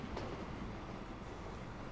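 An S-Bahn commuter train rolls into a station in Train Fever, a steady rumble of wheels and carriages at moderate volume, with no talk.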